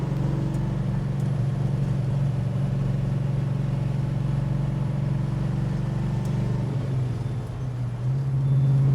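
A 1969 Dodge Charger R/T muscle car drives on a winding road, its V8 engine a loud, steady low rumble heard from inside, dipping briefly as it shifts before swelling again.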